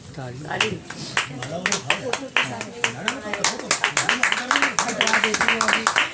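A crowd claps in dense, rapid bursts at a Hindi-speaking BJP membership and voter-registration camp, sharp broadband slaps piling up across the whole stretch with voices talking underneath.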